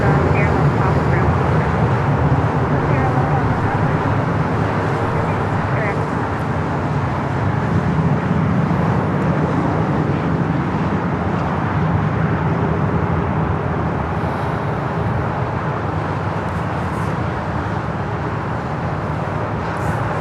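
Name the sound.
aircraft at Newark airport in snow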